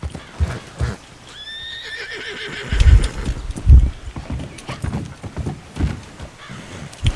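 A horse in the Red Dead Online video game gives a loud whinny with hoofbeats clopping around it, close and clear, with no talk.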